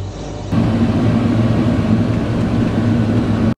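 A Gleaner combine harvester's engine and cleaning fan run at about 3,600 rpm, a loud, steady, close mechanical drone with a low hum that starts abruptly and holds without pause until a sudden cutoff.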